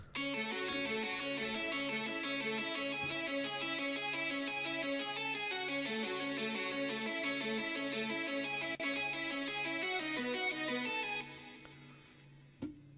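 Short, rapid staccato violin notes run in a steady rhythm alongside a sustained lead guitar line, steady in level before ending abruptly.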